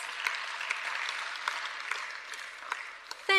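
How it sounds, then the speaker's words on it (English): Audience applause at a provincial climate change workshop, a steady clapping crowd heard from a moderate distance, fading slightly toward the end. "Give my MEC a strong round of applause."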